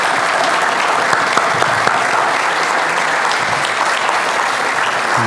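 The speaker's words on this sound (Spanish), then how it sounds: "Ponete de pie y te damos un aplauso lindo" A Costa Rican presentation audience breaks into sustained, dense applause honoring someone who has stood up, a steady loud wash of many hands clapping throughout with no talk over it.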